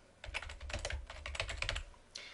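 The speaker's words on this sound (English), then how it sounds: "you can simply double click and start typing in new text" Quiet, close typing on a computer keyboard, a quick irregular run of key clicks and taps with a brief pause near the end, no voices.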